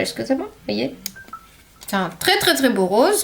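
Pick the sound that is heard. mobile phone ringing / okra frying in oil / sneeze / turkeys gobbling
mobile phone ringing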